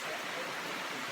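Heavy rain falling steadily outdoors in a forested countryside setting, a dense, even hiss with no breaks, heard alone for about a second.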